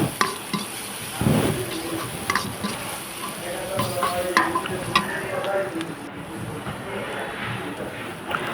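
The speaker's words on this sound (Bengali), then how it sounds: "পেঁয়াজগুলো ভেজে নিচ্ছে সুন্দরভাবে।" Onions fry in a pan for egg curry, with a soft continuous sizzle and repeated stirring and scraping strokes nearby, while a voice murmurs faintly in the background.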